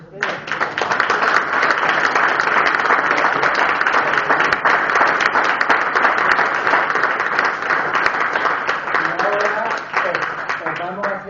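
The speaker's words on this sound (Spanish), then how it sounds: "Yo creo que merecen un gran aplauso los tres." An audience at a church event during a week-long pro-life gathering breaks into loud, sustained applause. The dense clapping fills the room and continues steadily before easing slightly, with a voice emerging toward the end.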